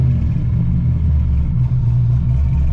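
An LS-swapped Nissan 300ZX runs with a steady, deep, close rumble from the V8, an even droning tone with no break across the short stretch; no voices.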